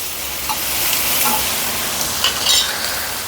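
Ginger paste fries loudly in a pan for dried prawn curry, giving a bright continuous sizzle with occasional stirring scrapes and pops, close and fairly loud.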